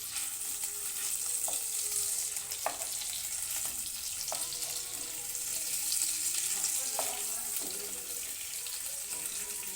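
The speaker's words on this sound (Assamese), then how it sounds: "মাছকেইডোখৰ লৰাই ভাজি ল'ম। মই একদম ল' ফ্লেমত ভাজি আছোঁ," Pieces of fish fry gently in a pan over a low flame, giving a continuous soft hiss and sizzle with occasional light clicks. The cooking sounds are heard alone.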